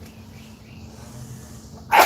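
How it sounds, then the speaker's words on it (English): A single person's sneeze bursts out loudly at the very end, after a stretch of quiet low background hum. "I'm gonna sneeze again."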